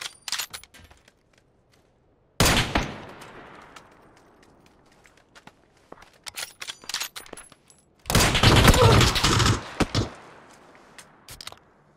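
Automatic gunfire in PUBG: a short opening volley, then a long loud burst, scattered single shots and a second heavy sustained burst, with quiet gaps in between.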